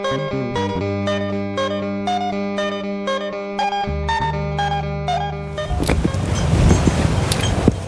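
Strong wind blows straight into an outdoor microphone, a rough, loud buffeting roar that takes over in the last couple of seconds after a stretch of steady musical tones.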